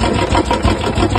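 Old Royal Enfield Bullet 350 with an engine noise problem, running close and loud with a steady, rough thumping idle and a noisy mechanical clatter, no talk.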